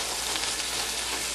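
A rice mixture with rose water cooks in a pan, filling the moment with a continuous, close hiss and sizzle without pause.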